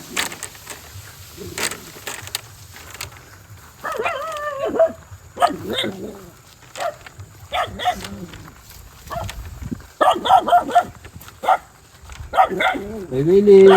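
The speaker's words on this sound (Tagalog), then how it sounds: "Mapapansin nyo doon, malalaki ng aso." Big dogs barking outdoors, a series of irregular barks and yips scattered among people talking.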